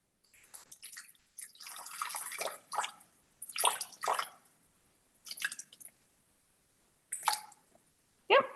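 Water is poured into a Thermomix TM6 mixing bowl in several short bursts of splashing and trickling with quiet gaps between, close by and without talk.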